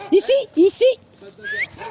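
A dog on a walk gives two short, close barks followed by a thin rising whimper, with voices and breathy noises mixed in.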